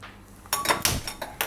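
A kadai pan set down on a gas stove, a few sharp metallic clanks and clinks in quick succession after a quiet start, close and distinct.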